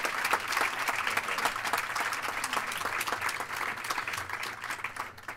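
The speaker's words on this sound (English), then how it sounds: "Let's give Congressman Adam Schiff another round of applause." Sustained audience applause at a political panel for a departing congressman, dense steady clapping at moderate level throughout, fading slightly at the end.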